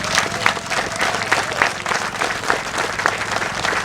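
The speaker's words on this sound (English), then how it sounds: "So a real round of applause for Walter Quint." A crowd applauds steadily, dense overlapping claps filling the space at an even level throughout, with a few sharper claps standing out.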